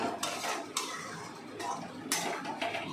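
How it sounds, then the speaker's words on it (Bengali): Spice paste frying for a rohu fish kalia, with a utensil scraping and clattering against the pan in several sharp strokes over a steady sizzle, close and fairly loud. "এবার ততক্ষণ পর্যন্ত মশলাটা ফ্রাই করব আমরা"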